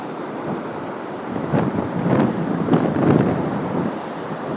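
Heavy storm surf at Rockaway Beach, New York, during Hurricane Sandy, a broad continuous roar of crashing waves with swelling surges and wind buffeting the microphone, with no one speaking.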